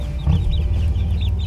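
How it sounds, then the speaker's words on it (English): Chickens cluck in a backyard chicken run, short soft repeated clucks close by over a steady low background hum, with no talking. "here's the little guys getting so much bigger and also enjoying hanging out in the chicken run"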